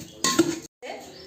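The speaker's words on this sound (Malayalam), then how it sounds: "ആ നെയ്ക്കകത്ത് ആ റൈസ് ഒന്ന് ഇളക്കി നല്ലതുപോലെ കൊടുക്കാവേ" Rice stirred in ghee inside a cooking pot for chicken biryani: a short burst of metal spoon scraping and clinking against the pot, a brief pause, then softer stirring.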